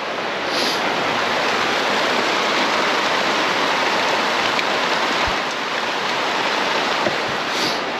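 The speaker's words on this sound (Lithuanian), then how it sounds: "Jeigu matosi, tenais labai stipriai pradėjo lyti." Heavy rain pouring down outdoors during a long pulled pork cook, a dense, continuous hiss of downpour that stays loud and even from start to finish.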